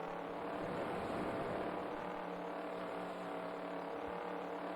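A sprint car engine drones steadily in World of Outlaws: Sprint Cars 2002 on PS2, sliding on a dry, slick dirt track, a sustained mid-level hum with a faint high whine and no speech.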